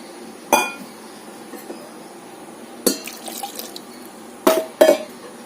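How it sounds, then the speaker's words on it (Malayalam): Water goes into a pot of Kerala jackfruit erissery curry in a few short splashing bursts, with small clinks and drips between them and no speech. "ഇനി നമുക്ക് ഇതിനകത്ത് ഒരല്പം വെള്ളം കൂടെ ചേർത്ത് കൊടുക്കും"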